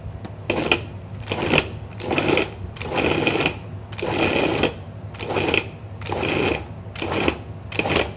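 A food processor pulses chopped tomatoes for chunky bruschetta. Seven short, close motor bursts whir on and off in a steady rhythm with brief pauses between them, and no one talks.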